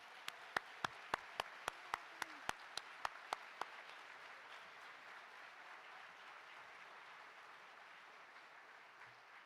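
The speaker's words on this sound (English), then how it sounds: "Let's give them one more round of applause." At a nursing class pinning ceremony, a small audience claps in a quiet, sparse burst of distinct hand claps that fades out after a few seconds, leaving a low room hush.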